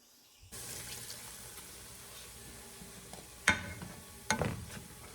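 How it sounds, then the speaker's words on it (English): Dr Pepper poured into cooking sloppy joe meat in a hot pan, a sudden steady fizzing, sizzling rush that starts after a brief quiet and carries on, with two louder sputtering bursts near the end; no talk. "Go ahead and pour in our Dr. Pepper."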